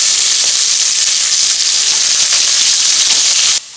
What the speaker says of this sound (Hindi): प्याज को गोल्डन ब्राउन होने तक भून लेंगे।